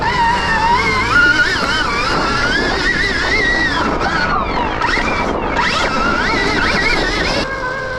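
A Stark Varg electric motorcycle accelerates with a whining motor pitch that rises and falls through bursts of throttle, loud and close, over buffeting wind noise.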